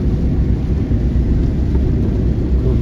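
Heavy, rumbling rain and wind noise roars continuously, loud and dense, with no voices, near turning wind turbines.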